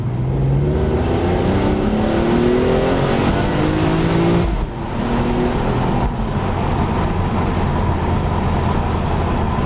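A BMW E46 M3 CS straight-six engine pulls hard through the gears, its loud rising howl climbing in pitch, dropping briefly at a shift, then building again from inside the car.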